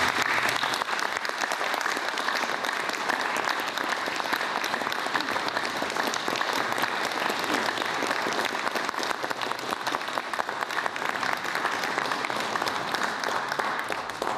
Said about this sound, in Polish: Słusznie się należą oklaski.